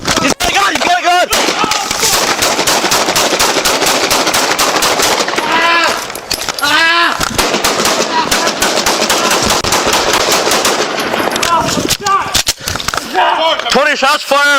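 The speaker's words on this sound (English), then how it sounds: "20 shots fired, officer down." Rapid bursts of gunfire during a police foot pursuit of a vehicle theft suspect, very loud and close, dense volleys of shots with brief gaps, mixed with shouting voices.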